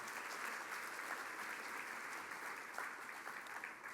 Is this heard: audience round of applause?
yes